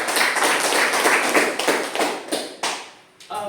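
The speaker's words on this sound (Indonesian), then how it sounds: "Tepuk tangan dulu." Students in a classroom break into steady applause, a dense wash of clapping that holds for about three seconds before thinning into a few scattered final claps.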